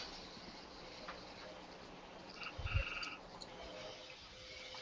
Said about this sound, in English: And I got a frog outside.